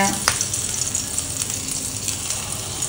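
Fish dipped in semolina frying in hot oil in a pan for green masala fish fry, a steady, close crackling sizzle running throughout with a faint voice in the background.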